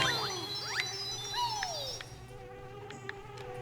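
Zubba bees buzzing in the Banjo-Kazooie video game, a thin, whiny swarm of overlapping buzzes sweeping up and down in pitch with faint chimes, fairly quiet and without talk.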